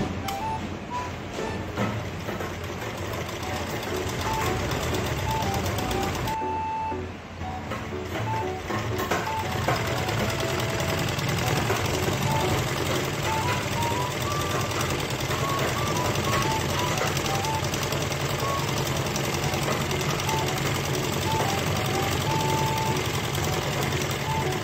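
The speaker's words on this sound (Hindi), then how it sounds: "अब हम क्या करेंगे, हम यहाँ से सिलाई लगाते हुए आएंगे बिल्कुल किनारे की साइड, यहाँ से यहाँ तक।" A sewing machine runs steadily while stitching a stand collar on a blouse, a continuous close mechanical whirr and rapid needle clatter with one brief pause near the start.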